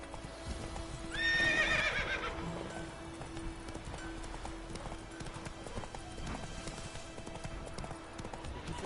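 A horse in a PS4 video game gives a loud whinny near the start, then keeps up a steady, rhythmic clip-clop of galloping hooves over a low game ambience.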